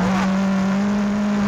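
Rear-wheel-drive rally car engine heard from inside the cockpit on a gravel stage of Rally Otago, New Zealand, a steady loud drone holding a constant pitch throughout, with no talk.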